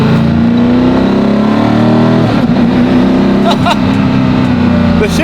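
A hypercar's engine revs hard under acceleration, loud and close, and its pitch climbs steadily. Abrupt, jerky gear shifts break the climb midway, and people talk over the engine noise.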